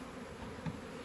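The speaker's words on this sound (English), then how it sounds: "knock the last of the bees that are stuck in his nuke box inside the hive" Honey bees buzz as they are knocked out of a Langstroth deep nuc box into a Layens horizontal hive, giving a soft, continuous humming drone that stays faint throughout.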